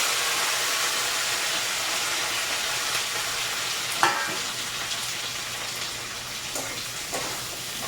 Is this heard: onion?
yes